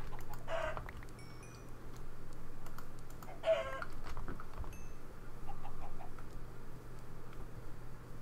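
Brief chicken clucks from the Minecraft video game sound over steady background hum, mixed with bursts of computer keyboard typing and clicks.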